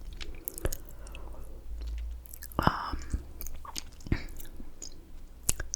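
Someone chews McDonald's food close to the microphone, soft wet mouth sounds with a few sharper crunchy bites scattered irregularly in a quiet room.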